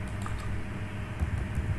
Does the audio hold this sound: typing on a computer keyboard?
yes